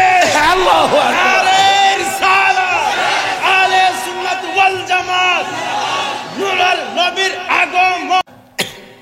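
A large crowd at a religious sermon chants Allahu Akbar in loud, repeated unison shouts answering a takbir call, the voices swelling and echoing before cutting off abruptly near the end.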